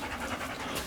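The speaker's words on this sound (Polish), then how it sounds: "taki sapiący odgłos" A child pants rapidly and breathily inside a camper van, a short burst of close, rhythmic huffing with no talk.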